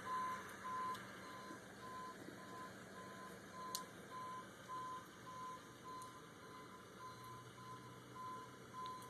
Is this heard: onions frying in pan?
no